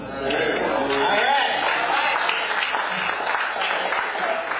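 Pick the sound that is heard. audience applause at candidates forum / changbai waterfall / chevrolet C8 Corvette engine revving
audience applause at candidates forum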